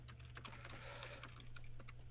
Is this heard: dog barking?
no